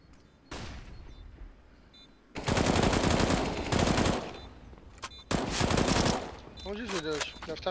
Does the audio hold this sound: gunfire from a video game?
yes